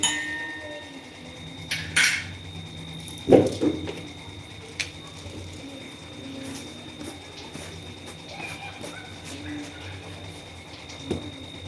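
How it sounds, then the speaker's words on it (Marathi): Tea with about two cups of milk stirred in a pan over a medium gas flame, with a few distinct metallic clinks and scrapes of a spoon against the pan over a quiet background. "आता आपण याला मिक्स करून घेऊया व्यवस्थित"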